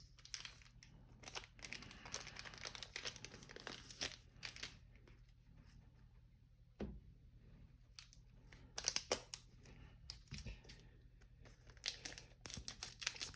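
Crinkling plastic wrapper of a 1982 Topps football card rack pack being torn and pulled open by hand, close and continuous with sharp crackly bursts and a few brief pauses.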